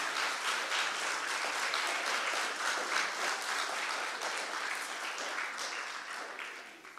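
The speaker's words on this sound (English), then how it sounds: "Give them a hand, ladies and gentlemen." Audience applause for firefighters at a town hall meeting, a full, sustained round of clapping from a room of people that slowly fades at the end.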